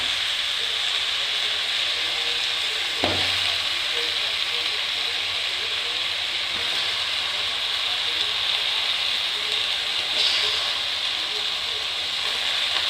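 One kilogram of chicken goes into a pan of softened frying tomatoes, setting off a bright, steady hiss and sizzle. A brief thud and louder burst mark the moment the chicken lands, and the sizzle then continues evenly throughout.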